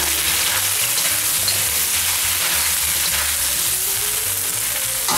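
Sweet and sour sauce for tiger shrimps simmers and sizzles steadily in a pan, a loud, continuous crackling bubble with no pauses and no voices.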